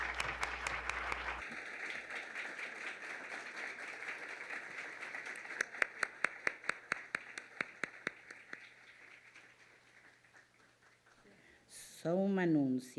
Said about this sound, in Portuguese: um aplauso enorme para a Alexandra